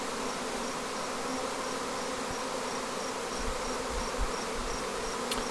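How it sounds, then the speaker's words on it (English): A honey bee swarm buzzes steadily as hundreds of bees gather in the air during a swarm capture, a dense, continuous drone that stays close and fairly even throughout. "hundreds of bees came and joined in"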